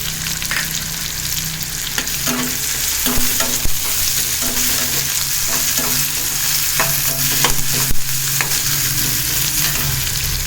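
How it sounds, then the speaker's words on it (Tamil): Four crushed garlic cloves frying in hot oil for a dried anchovy thokku: a loud, dense, continuous sizzle up close, broken by recurring scrapes of stirring. "அது கூட ஒரு 4 பல் பூண்டை நசுக்கி வச்சுருக்கேன், அதையும் இப்போ சேர்த்துக்கிறேன்."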